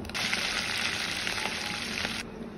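Curry leaves and green chillies hit hot tempering oil in a pan of potato upma curry, giving a loud, steady crackling sizzle that runs for about two seconds and then cuts off abruptly.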